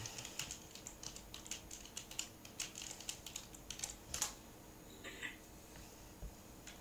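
Quick, irregular clicks of fingers typing on a computer keyboard during an online card game, soft and close, with short pauses between bursts of keystrokes and no speech.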